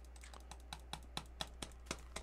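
Rapid clicking while playing Minecraft on a computer, about a dozen sharp, quiet clicks in a quick uneven rhythm over a low steady hum.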